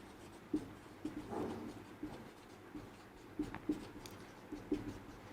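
Chalk or marker tapping and scratching on a board during a class 10 maths lesson on polynomials, a quiet, irregular series of short strokes and taps, close, with no voices.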